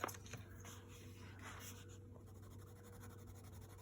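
Close, soft scratching of a pencil moving across paper in short strokes, then a quieter steady shading sound.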